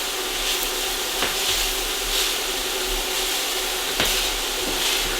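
Plain ramen noodles tossed onto a beef and vegetable stir fry sizzle in a hot pan with a steady, close hiss, broken by occasional clicks and scrapes of stirring.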